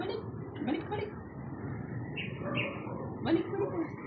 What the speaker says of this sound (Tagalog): Asa na bird? Tweet.